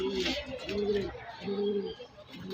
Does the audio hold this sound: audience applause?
no